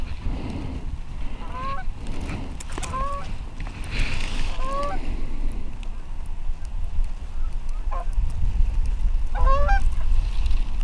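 A small flock of five geese honks in repeated short calls, spaced every second or so, as the birds fly in over a hunting field, heard at moderate distance over steady wind and field noise.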